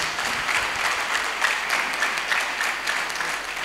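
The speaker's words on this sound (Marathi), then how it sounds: "तुम्ही सगळ्यांनी जोरदार टाळ्या वाजायला पाहिजे" Audience at a grape-farming guidance meeting applauding, a steady wash of clapping across the whole stretch at moderate volume.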